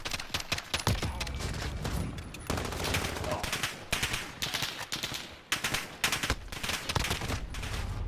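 Dense automatic gunfire in the Call of Duty Modern Warfare shooter, sharp repeated bursts and rattling volleys filling the whole stretch, loud and close with short gaps between strings of shots.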